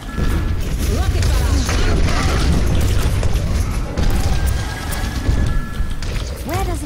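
Pharah's rocket barrage in Overwatch, a rapid stream of booming explosions and mechanical clatter filling the scene, loud and dense, with in-game voices talking over it.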